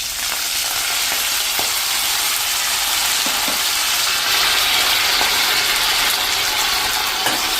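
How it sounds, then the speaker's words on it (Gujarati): Whole cumin and finely chopped fresh green fenugreek leaves sizzle in hot oil, a steady, close crackling fry with occasional faint clinks, no voices. "1/2 ટીસ્પૂન જેવું આખું જીરું નાખી અને આપણે જે મેથી લીધી છે ને ઝીણી સમારેલી લીલી મેથી, એ આપણે 1 ટેબલ સ્પૂન જેવી નાખી દેશું."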